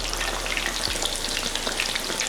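Fish fillets deep frying in oil give a steady, dense crackling sizzle with fine bubbling pops throughout, close and continuous with no voices.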